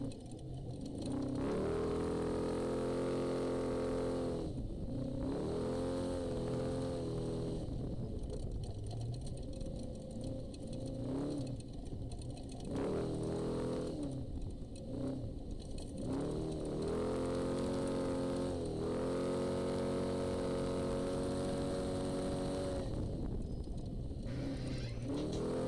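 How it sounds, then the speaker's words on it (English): Rally race cars in the NORRA Baja off-road race between La Paz and San José del Cabo roar past, with engines revving hard, rising and falling through gear changes in a loud, continuous, close stream. "Man, great racing right now, Ken."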